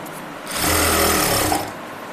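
A sewing machine runs in one short, steady burst of about a second while stitching a single-seam palazzo, close and alone with quiet before and after.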